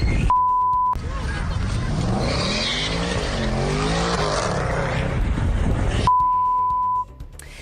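Car speeding through Times Square and nearly running down a police officer, a loud engine roar with tire noise lasting several seconds, set between short electronic beeps at the start and end.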